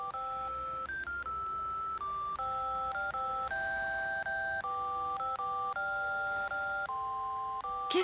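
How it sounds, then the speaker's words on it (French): Grandma's telephone rings with a steady electronic ringtone, a melody of clean beeping notes of shifting pitch that plays continuously and clearly, without voices. "on dirait que c'est la sonnerie de mamie"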